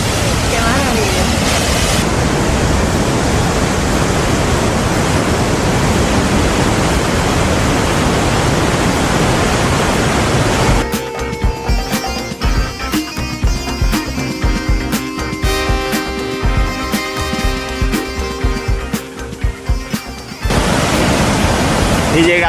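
Powerful rushing roar of the Petrohué waterfalls on the Petrohué river, a loud, steady broadband torrent that fills the scene, briefly thinning midway before returning at full force.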